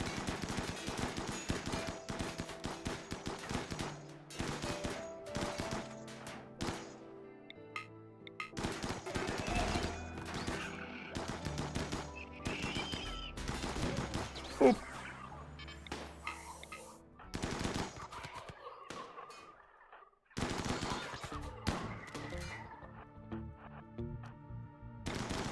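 Mini turrets in the game RimWorld fire in dense, rapid automatic bursts, loud and near. The rattling volleys come in long stretches broken by brief pauses, with no talk over them.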